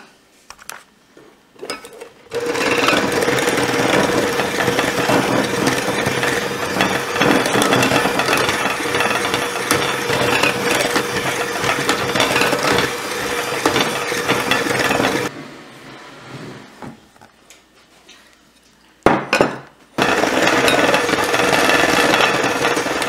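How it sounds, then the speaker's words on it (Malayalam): An electric hand mixer beats dry ingredients into red velvet cake batter, a loud rattling whir running steadily for about thirteen seconds, then stopping and briefly restarting, with short pauses of near silence. "ഇതിലേക്ക് നമുക്ക് ഡ്രൈ ഇൻഗ്രീഡിയൻസ് കുറച്ചായിട്ട് ഇട്ടിട്ട് നന്നായി ബീറ്റ് ചെയ്ത് കൊടുക്കാം"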